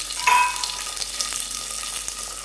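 Chopped onions sizzling in hot oil in a pan for a crab sukka, a steady crackling fry with a brief louder hiss near the start as they hit the oil and faint stirring scrapes.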